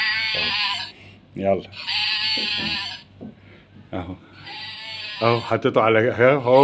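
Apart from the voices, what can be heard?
sheep bleating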